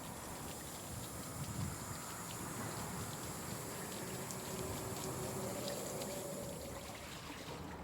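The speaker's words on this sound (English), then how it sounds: "I'm wetting the coat because I want it to take the form of my body in its final dried shape." Water soaks a nettle fibre coat, giving a steady soft wash of hiss and gentle splashing with no breaks.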